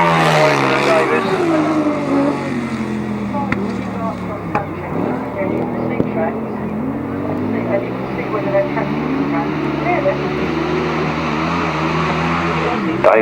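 Grasstrack racing bikes with Steer frames and Yamaha engines at a 2000 South Eastern Centre championship meeting whine and rev as they pass, pitch rising and falling, under a commentator's steady talk.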